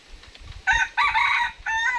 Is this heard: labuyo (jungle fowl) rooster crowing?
yes